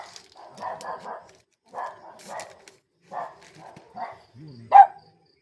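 Several dogs bark in short clustered bursts, close and fairly loud, with pauses between volleys and a final sharper yelp at the end; no talking over them.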